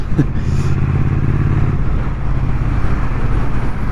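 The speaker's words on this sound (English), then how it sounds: "See, nice fun you can have with the bike. Super nimble, beautiful torque, 4th gear, it pulls like mad." A new motorcycle, still in its run-in period, accelerates hard in fourth gear: a loud, steady engine drone with heavy wind rush continues throughout, close to the rider.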